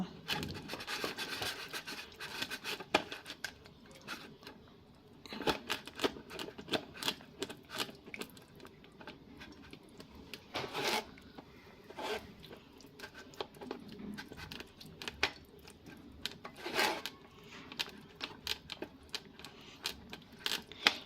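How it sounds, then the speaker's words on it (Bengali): Raw green mango puree pressed through a strainer with a ladle for a cold summer mango drink, giving soft, irregular rubbing and scraping strokes with occasional sharper taps, close and fairly quiet with no talking. "আর এর মধ্যে হাতাই করে আমি এই পিউরিটা দেব আর ছেঁকে নেব"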